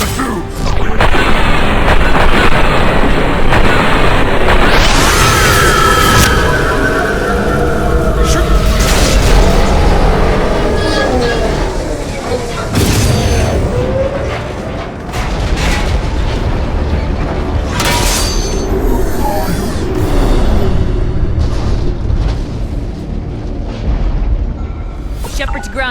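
Loud, continuous battle noise from Mass Effect 2 on PC as the tubes are shot: heavy booming explosions and crashing gunfire run almost the whole time, with voices mixed in.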